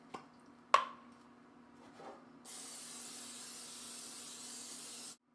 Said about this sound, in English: spray the sides with non-stick oil spray